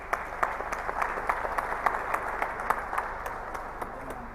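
An audience at a rain enhancement science award ceremony in the UAE gives rhythmic, fairly loud applause, with clearly spaced claps that pulse steadily as the room claps in near unison.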